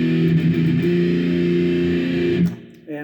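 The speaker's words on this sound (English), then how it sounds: "distortion on the bridge pickup." Electric guitar played through distortion on the bridge pickup rings out as a sustained, buzzy chord for over two seconds, then cuts off abruptly and a short new note follows.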